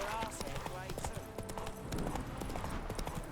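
Roach, a horse in The Witcher 3, clops along with steady rhythmic hoofbeats over a busy game soundscape, with a voice talking throughout.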